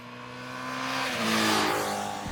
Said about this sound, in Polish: trzeba ten silnik bardzo wysoko kręcić